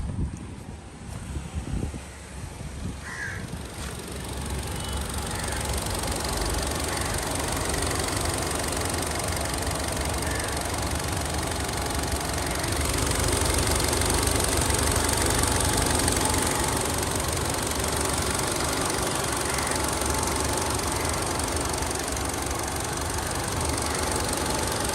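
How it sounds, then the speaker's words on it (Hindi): A 2026 Kia Seltos petrol engine idles with a steady, low, smooth hum and faint mechanical ticking, heard close and continuous for the whole stretch, with a slight swell in level partway through and no talking. "ये पेट्रोल इंजन है जो कि बहुत ही ज़्यादा साइलेंट आता है"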